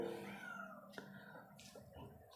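A house cat meows a few times indoors in a home that also keeps dogs, faint, drawn-out cries spaced across a quiet room.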